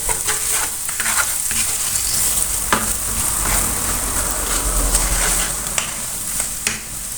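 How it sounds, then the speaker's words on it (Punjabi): Spices with turmeric roast in a pan over low gas for an aloo palak dish, giving a steady close sizzle with scraping stirs and occasional clicks of a spoon against the pan. "ਘੱਟ ਗੈਸ ਕਰਕੇ ਭੁੰਨਾਂਗੇ"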